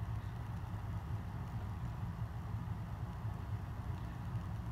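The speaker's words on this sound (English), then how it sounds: "Fan is very well balanced and it runs very well and it's quiet." A new Homestead Wind 2 chrome ceiling fan with black blades runs on medium speed, giving a faint, steady low hum with an even, unchanging drone throughout and no speech.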